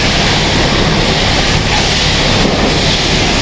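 Water sprays steadily in a loud, continuous hiss as it washes layers of snow and ice off a vehicle in freezing cold weather.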